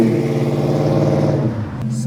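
A 1972 Chevrolet Chevelle restomod with a big-block V8 revs up close and loud, a deep throaty rumble that holds steady before easing off near the end.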